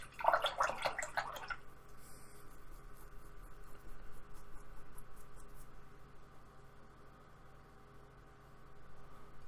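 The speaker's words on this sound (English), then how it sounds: "Just wash my brush." Acrylic paint is rinsed from a paintbrush in a water pot, a brief close splashy swishing at the very start, then quiet faint room noise.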